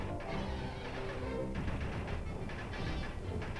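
Heavy gunfire in a Korean War documentary film, a dense, steady wall of rifle and machine-gun fire across open rice paddies, continuous and fairly loud with no talk over it.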